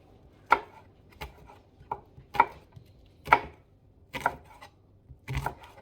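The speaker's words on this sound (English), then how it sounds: "I'll just cut the onion and then put them in." A knife chops onion on a cutting board for soup, six sharp separate strikes at a slow, uneven pace, close and clear with quiet room tone between them.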